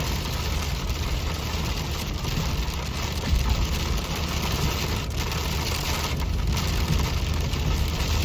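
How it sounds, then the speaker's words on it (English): Heavy rain drumming steadily on a pickup truck roof, a Ford Super Duty with a 7.3 gas engine, a dense continuous hiss with a low engine hum underneath. "A lot of water coming down."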